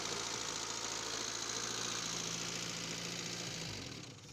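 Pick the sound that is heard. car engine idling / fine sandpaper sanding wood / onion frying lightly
car engine idling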